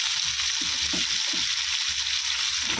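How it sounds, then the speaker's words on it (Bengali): Vegetables, leafy greens with aubergine and potato, frying in a pan, a steady bright sizzle close up, with a few soft clinks and scrapes of stirring underneath. "এখানে শাক ভাজা হয়ে গেছে"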